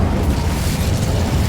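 Incendio fire spell cast in Hogwarts Legacy: a loud, dense roaring burst of flame with a deep rumbling body that holds steady for its whole short length.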